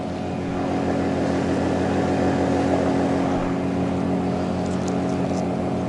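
Continuous close hum of a Hidea 5 hp outboard motor driving a small boat, loud and even for several seconds with no voices.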